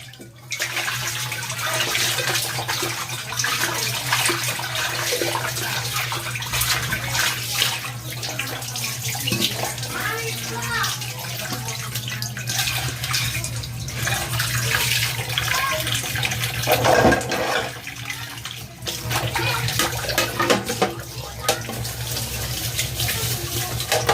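Water pours steadily from a tap into a container in the Philippines, a continuous splashing rush with a low hum beneath, close by.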